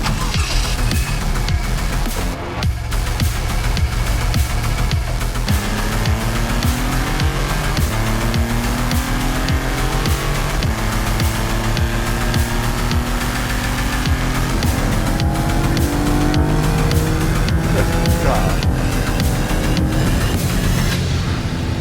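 2022 Maserati MC20 sports car accelerating hard, a loud continuous engine roar with rising and falling pitch as it climbs through gears at high speed.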